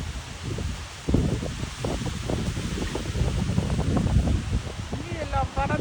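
Strong wind blowing in Zürich, gusting roar and buffeting against the microphone with rustling, while a voice speaks partway through.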